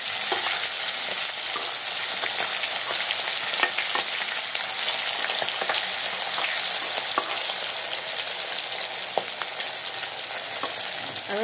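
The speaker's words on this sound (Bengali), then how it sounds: "আমার মাছ ভাজা হয়ে গেছে প্রায়। এই দেখুন, লাল হয়ে গেছে।" Hilsa fish frying in a pan produces a loud, steady sizzle with crackling pops throughout, heard alone with no voices.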